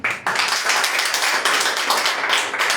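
A church congregation claps in praise to Jesus, a dense, steady patter of many hands close by that carries on without a break after one short dip near the start.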